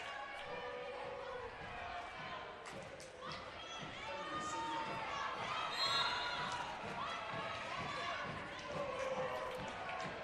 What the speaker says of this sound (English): Big, boisterous crowd on this Friday night for the first of 2 matches